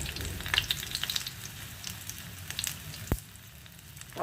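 Small rajma (kidney bean) tikki patties fry in hot oil, giving a steady soft sizzle with a few brief crackles and one sharp clatter midway, close and fairly quiet, with no one speaking.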